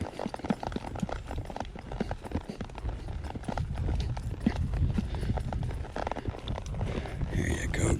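Hooves of a palomino mare clip-clop steadily on a trail as she is ridden in a spade bit, close and rhythmic, with broadband outdoor noise around them.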